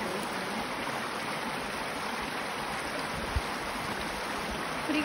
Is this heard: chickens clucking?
no